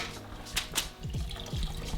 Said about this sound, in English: just hold it so any of the water comes out, put it in now.